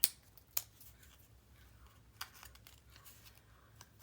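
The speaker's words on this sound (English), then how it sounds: "you should have a sheet full of cut aparts that you can cut out this heart." Scissors snip paper to cut out a heart shape for a mini album, with a few sharp close cuts spaced apart and quieter paper rustling between them; no one speaks.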